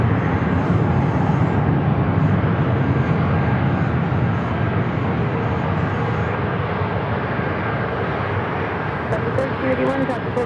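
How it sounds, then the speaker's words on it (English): An airliner departing San Diego for Puerto Vallarta roars steadily and loudly throughout, a dense engine rumble with a voice speaking over it. "Flight heading to Puerto Vallarta"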